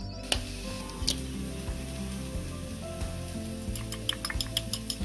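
Ingredients sauté in a pan for an egg and cabbage stir-fry, giving a soft, continuous sizzle close by with light scraping ticks and a steady low hum underneath.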